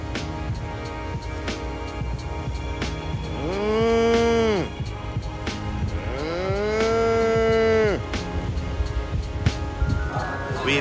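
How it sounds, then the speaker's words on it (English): A cow moos outdoors near a resort in Boracay, two long, loud, drawn-out calls a few seconds apart over faint background rustle and brief clatter. "And I see a cow."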